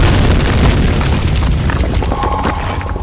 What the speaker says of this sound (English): that was quite the violent explosion